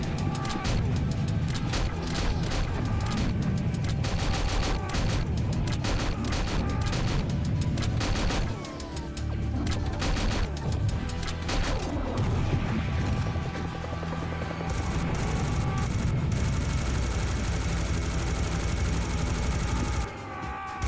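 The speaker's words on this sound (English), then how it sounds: "here's how the Gatling launcher works" Gatling launcher in a Serious Sam mod, a sustained rapid barrage of loud repeated shots layered with mechanical whirring and heavy battle noise, continuous for the whole stretch with a brief dip partway.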